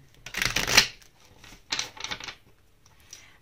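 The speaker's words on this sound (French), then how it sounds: "je vais battre un peu les cartes" Tarot cards shuffled close up make two short riffling bursts of papery flutter with a soft tap at the end, and no voice over them.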